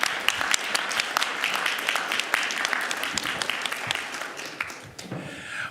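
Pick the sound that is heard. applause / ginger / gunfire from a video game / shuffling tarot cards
applause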